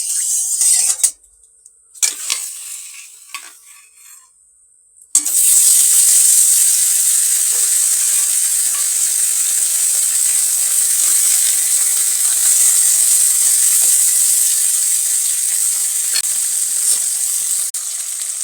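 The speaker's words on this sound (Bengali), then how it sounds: "মাছ ভাজার জন্য তেল গরম হয়ে গেছে, এখন মাছগুলো ভেজে নেব।" Parshe fish frying in hot oil in a kadai: after a few brief clattering sounds and a sudden splash, a loud, steady hissing sizzle fills the rest of the clip, close and continuous, with no talking.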